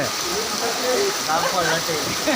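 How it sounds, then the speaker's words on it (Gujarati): Heavy rain falls in Jasdan town in Rajkot district, a dense, even hiss of downpour lasting the whole stretch while someone talks over it. "જોરદાર વરસાદ ચાલુ થયો છે"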